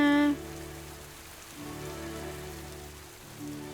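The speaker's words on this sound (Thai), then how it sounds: "โอ้ยทำไมฝนยัง ไม่หยุดตกอีกเนี่ย" Steady rain falls in the Roblox game Royale High, a soft even hiss of drops that runs throughout beneath sustained, quiet musical tones.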